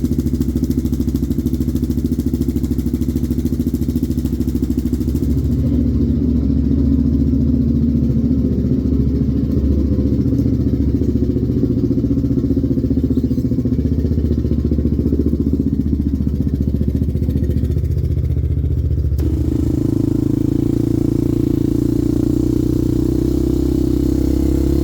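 A sport quad ATV engine runs steadily after a jump start on a cold, dead battery, a loud, continuous low drone with a slight shift in pitch near the end, heard alone and up close.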